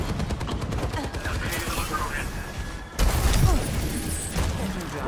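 Rapid automatic turret gunfire in the video game Overwatch 2 rattles almost continuously, with a heavier burst partway through, loud and close amid game sounds, with a player talking over it.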